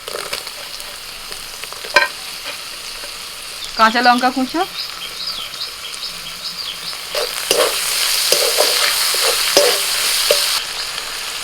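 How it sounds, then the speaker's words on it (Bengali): Chopped tomato with ginger and garlic sizzles and fries in a pan, steady frying hiss with stirring scrapes, while someone talks and birds chirp nearby. "আদা রসুনটা একটু ভাজা ভাজা হয়ে গেছে এবার দিয়ে দিচ্ছি একটু টমেটো কুচি"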